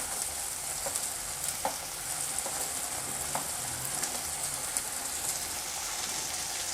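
Green chilies and sliced ginger fry in a pan for an eggplant dish, a steady close sizzle with light crackles and a few sharp pops scattered throughout, no voices.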